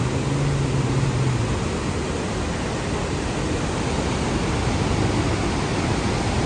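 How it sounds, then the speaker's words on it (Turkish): Iguazu Falls in Argentina, a huge waterfall in green forest, gives a constant broadband roar of falling water, loud and unbroken throughout with no voices. "ormanın içinde şelaleler"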